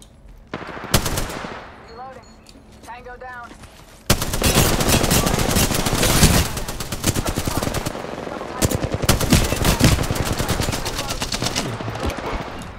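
Apex Legends gunfire: scattered sharp shots at first, then a dense stretch of rapid automatic bursts and rattling fire that continues almost without a break, loud and close.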